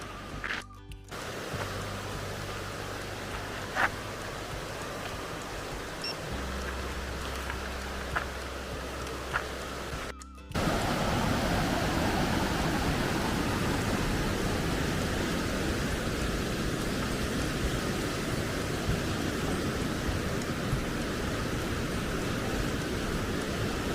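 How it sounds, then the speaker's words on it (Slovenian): The Radovna river flows through the Vintgar gorge with a steady broadband rush of water. It sounds moderate at first, then jumps to a louder, close, continuous roar partway through. "Skozi Sotesko teče reka Radovna, ki drugače izvira v Krmi."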